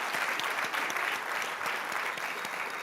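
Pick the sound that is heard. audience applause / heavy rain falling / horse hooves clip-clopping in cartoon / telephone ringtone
audience applause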